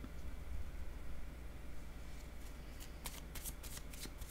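Tarot cards shuffled by hand during a reading, a soft riffling patter that turns into a burst of crisp, rapid card flicks near the end, close and alone.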